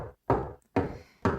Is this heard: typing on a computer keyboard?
no